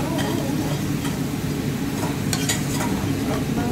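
Chicken pakbet with okra and vegetables being stirred in a pan over the heat, a continuous dense sizzle with scraping utensil strokes and a few clinks near the end.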